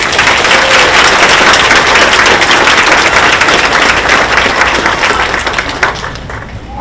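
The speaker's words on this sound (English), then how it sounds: "Please join me in a round of applause for our faculty and deans." Sustained, loud applause from a large commencement audience honoring faculty and deans, dense clapping that holds steady for several seconds before gradually thinning toward the end.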